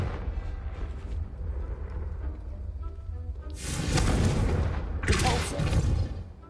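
Two loud fiery blasts from the Confringo spell in Hogwarts Legacy, each bursting out of a low game-music bed and fading over a second or so, the second hard on the heels of the first.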